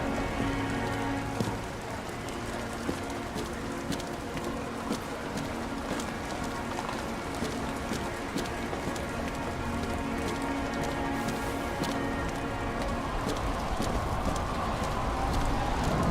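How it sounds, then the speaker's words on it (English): Steady rain falls in the video game Nobody Wants to Die, a dense even hiss that runs unbroken throughout with faint patter and tapping mixed in. "I still don't understand how it's raining when there's a ceiling up there."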